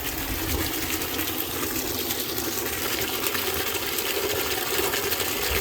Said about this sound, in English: Wait till the water kind of fills up here